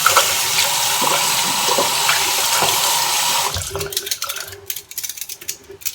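Running tap water rinses a razor and its removed blade after shaving, a steady close hiss that breaks off partway into scattered drips and splashes as the flow is interrupted.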